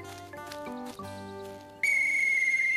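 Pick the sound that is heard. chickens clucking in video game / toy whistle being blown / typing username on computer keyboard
toy whistle being blown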